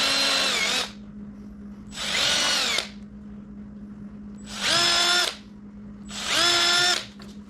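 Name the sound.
power drill drilling pilot holes for screws in wood board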